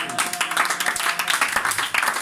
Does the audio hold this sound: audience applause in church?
yes